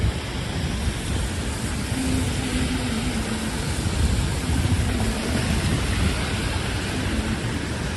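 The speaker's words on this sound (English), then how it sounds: "it's really starting to rain sideways now" Heavy rain storm on a New York City street, a steady loud broadband wash of rain blowing sideways, continuous and close with no pauses and no speech.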